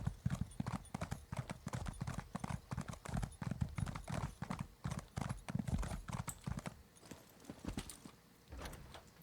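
Horse hooves clip-clop steadily in a riding video game, a quick rhythmic run of close, distinct steps that carries on throughout, briefly thinning near the end.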